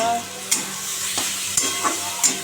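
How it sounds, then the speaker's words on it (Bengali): Bitter gourd and pumpkin fry with black cumin in a pan, a steady soft sizzle broken by several sharp scrapes of stirring, close and alone with no talk. "একটু কালো জিরে দিয়ে উচ্ছে আর কুমড়োটা ভেজে নিই"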